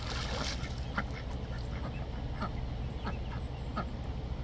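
Ducks quack and splash about in a freshly cleaned backyard pond, a few distinct quacks popping out over a steady low, noisy water and outdoor background.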